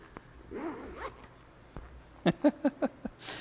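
A zipper on the clear vinyl soft-top window of a Dodge Viper RT10 is pulled in a quick series of five short, close rasping strokes, after some faint rustling of the canvas top.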